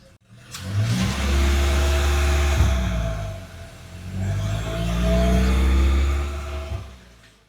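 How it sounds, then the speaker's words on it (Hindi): A Hyundai Creta N-Line engine revs hard twice, each rise swelling into a deep throaty roar before dropping back, close and loud with no talking. "इसके इंजन की भी मैं आपको आवाज़ सुनाती हूँ, एक्सेलरेशन की, इसकी कैसी रोरिंग साउंड आएगी।"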